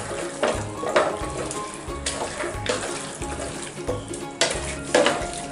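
Chicken biryani mixture with chicken pieces is stirred in a pot, rhythmic wet scraping strokes repeating about once a second over a low simmering sizzle, close and fairly loud.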